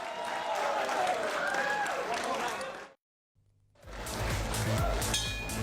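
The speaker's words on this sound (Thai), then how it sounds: "มีเสียงปรบมือให้กำลังใจเลยครับ" Crowd at a boxing bout between Singsayan CP Freshmart and Stamp Sor Saknarin clapping to urge the fighters on, a dense wash of applause under an excited commentator's voice, broken by a brief silence before the noise resumes.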